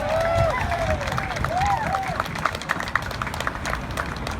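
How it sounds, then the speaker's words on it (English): Crowd at an outdoor anti-demoviction rally at Metrotown in Burnaby clapping, a dense patter of applause with scattered cheers and whistles, voices talking over it. "Just a round of applause."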